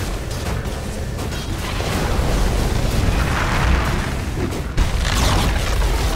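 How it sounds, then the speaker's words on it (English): Tower collapsing in Dota 2, a heavy rumbling crash with layered booms and debris-like bursts, loud and sustained, with a sharp impact near the end. "Radiant's middle tower has fallen."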